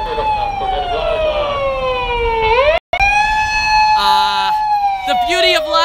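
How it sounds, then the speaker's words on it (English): An ambulance siren wails on a busy Tokyo street, loud and near, sweeping down and up in long tones, with a short dropout, then overlapping horns and traffic joining in. "Lots and lots of ambulances."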